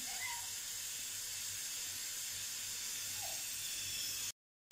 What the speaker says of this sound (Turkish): Düdüklü kafasını verdi.